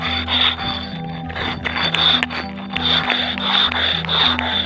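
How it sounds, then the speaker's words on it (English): A concrete rubbing stone sanding back a concrete skate ledge, giving a loud, steady rasping scrape in repeated back-and-forth strokes with a constant tonal hum underneath. "you're just gonna have to sand it back to your heart's content"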